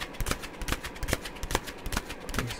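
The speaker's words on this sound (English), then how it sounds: "I'm gonna shuffle the cards just a little bit here." A deck of tarot cards being shuffled by hand, giving quick, irregular papery riffles and slaps at close range in short bursts.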